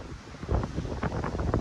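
Wind buffets the microphone outdoors in a nature park, a steady, loud low rumble with fluttering gusts across the whole moment and no voices.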